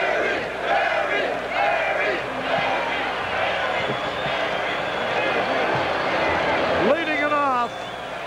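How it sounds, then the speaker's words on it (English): Large crowd in the bleachers at a Detroit Tigers vs. Chicago White Sox baseball game in the ninth inning, a steady roar of cheering and yelling with a brief swell of shouts near the end. "A big crowd here in the bleachers"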